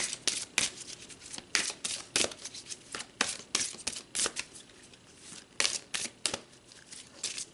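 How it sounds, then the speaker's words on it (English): Tarot cards being shuffled and drawn, a steady run of crisp riffling snaps and slaps, close and fairly loud, with no talking. "let's pull another card to go a bit deeper"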